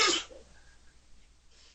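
A single short, sharp sneeze bursts out at the very start during an online meeting, then fades into quiet room tone.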